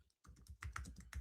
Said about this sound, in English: as I'm typing this